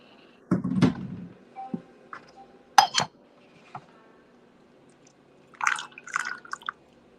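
Tea leaves rinsed with water in a small pot: a few splashing pours, drips and light clinks of ceramic separated by quiet gaps, close with no speech.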